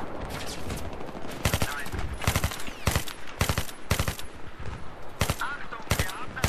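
Sniper and automatic gunfire in the multiplayer video game Battlefield 3, with loud sharp shots in quick bursts and a steady rhythm, sounding close.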